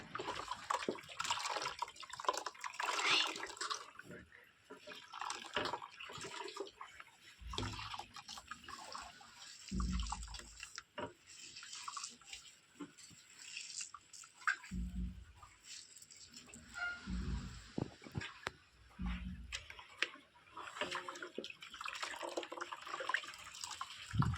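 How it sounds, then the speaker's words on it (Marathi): Soaked wheat for kurdai is washed by hand in water, with sloshing, splashing and dripping in irregular bursts, fairly faint and close. "आता मी पहिल्या पाण्याने धुते अक्का तिकडे दुसऱ्या पाण्याने धुते"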